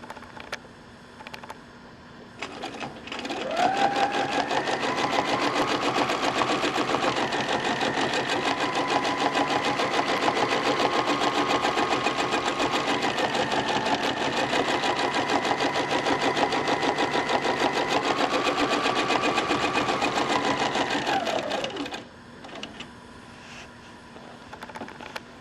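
A small domestic sewing machine hums and clatters in one long continuous run of about eighteen seconds while free-motion quilting feathers, close and steady, its motor pitch rising and falling slightly as speed changes, with quiet moments at each end.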